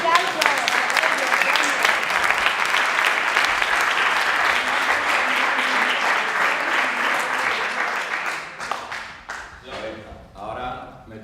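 A crowd at a Spanish-language talk breaks into sustained, dense applause, loud and steady for most of its length before thinning into scattered claps near the end, with some voices mixed in.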